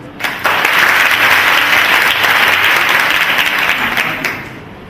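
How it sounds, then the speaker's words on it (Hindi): Sustained audience applause at a national seminar in a hall, a loud, dense wash of clapping that starts abruptly, holds steady for several seconds, then tapers off. "एक बार तालियां बजाकर मुझे बताएं कि सुन रहे हो"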